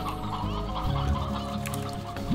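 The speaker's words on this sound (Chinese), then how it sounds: "那我们再带一只母鸡" A hen clucks in the video game Slime Rancher, a few short clucks heard over a steady game background.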